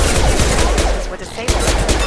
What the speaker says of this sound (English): Hey, that sounds like Fenris mechs.